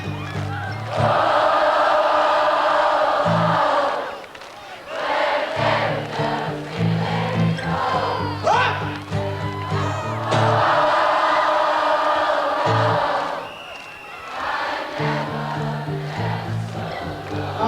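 A large outdoor concert crowd in a park at a show cheers and roars in loud sustained swells, dipping briefly between waves, with band sound and scattered shouting mixed in.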